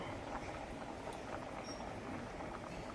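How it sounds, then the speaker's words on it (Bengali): Lentils (dal) simmering in a pot on a home kitchen stove give off a steady, dense bubbling hiss that holds at one level throughout, with no talk over it. "দিয়ে আর এই ডাল হচ্ছে, ডাল সেদ্ধ বসিয়েছি"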